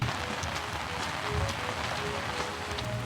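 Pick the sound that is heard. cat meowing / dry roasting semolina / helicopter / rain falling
rain falling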